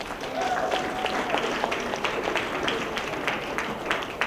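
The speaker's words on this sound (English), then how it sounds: "Give yourselves a round of applause." A college audience at a hypnotist's show claps in a lively round of applause, many hands patting irregularly at moderate loudness with scattered voices underneath.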